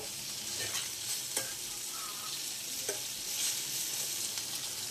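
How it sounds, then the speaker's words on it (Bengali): Small morla fish crackle in hot frying oil while a spatula scrapes and lifts them from the pan, giving a steady hiss broken by a few distinct scraping knocks. "এই যে এখানে ভাইজে তুলে রাখা হচ্ছে মোরলা মাছগুলো"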